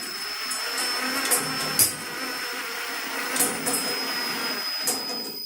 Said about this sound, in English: when you're using a driver, you don't want to go too fast because again, that's going to give you a lot of friction